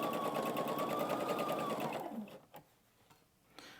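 A home sewing machine runs steadily while stitching the seams of an Easter egg table runner, its rapid mechanical hum loud and close for about two seconds before stopping, followed by a few soft handling clicks.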